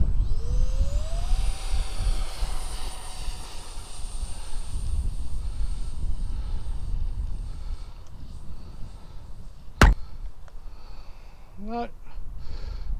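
Xfly SU27 twin 50mm EDF model jet spooling up for a takeoff attempt on its maiden flight, a steady whine rising in pitch over the opening seconds, then holding under broadband fan roar, with a sharp click near the end.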